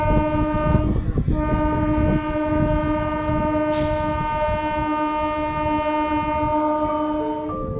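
A Bandel–Katwa local train rumbles past near Bansberia station in Hooghly, its horn sounding a long sustained blast throughout, with a brief high hiss midway.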